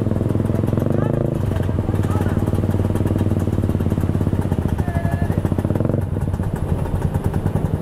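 A two-stroke motorcycle engine runs steadily up close in Indonesia, its rapid pulsing clatter loud and continuous throughout, with a low, busy hum from other traffic around it.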